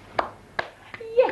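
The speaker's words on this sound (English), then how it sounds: "JaneGrace, clap." A little girl claps her hands a few times, soft separate smacks spaced about every half second and close by, with a short child's vocal sound at the end.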